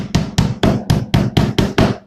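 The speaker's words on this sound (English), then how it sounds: "You get the hammer" A hammer drives a nail into the corners of a wooden box, eight sharp, evenly spaced strikes in quick succession, loud and close with no voices.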